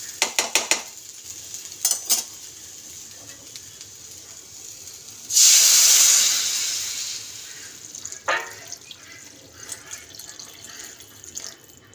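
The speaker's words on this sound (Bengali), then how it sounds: "চলুন আমি জলটা দিয়ে দিই।" Water poured into a curry pot to make soup: a short rushing pour midway, loud and close, between scattered clinks of utensils against the pot.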